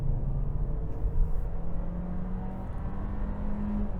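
A 2025 Volkswagen Taos with a revised engine accelerating, a steady low engine rumble and rising whir heard from inside the cabin, with no talk.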